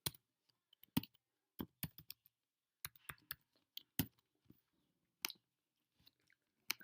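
Someone types a username and password on a computer keyboard, producing sparse, crisp key clicks in small irregular clusters, close and quiet against a silent background.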